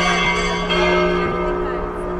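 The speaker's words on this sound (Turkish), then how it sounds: "Çan sesleriyle başladık" A church bell in Moscow rings with a sustained, resonant tone and rich overtones, struck once more partway through, loud and close.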